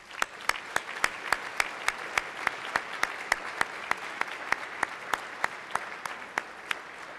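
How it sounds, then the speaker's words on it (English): Applause for Radford High School cheerleading honorees in the chamber of Hawaii's House of Representatives: a steady run of crisp, evenly spaced claps, fairly close and moderately loud, with no talking. "Let's give our honorees a round of applause."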